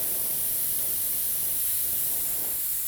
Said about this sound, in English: when you're spraying air on these things, another reason I like using the airbrush is I can also control it.